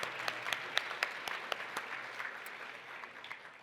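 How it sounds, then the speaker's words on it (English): An audience at a National Philanthropy Day event applauds steadily, a dense wash of clapping with a few sharp louder claps, fading slightly toward the end with no voices on top. "Another round of applause,"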